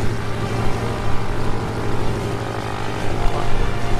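A propeller plane engine drones continuously in the World of Warplanes combat flight game, a dense steady hum with slight fluctuations, loud and unbroken with no voices.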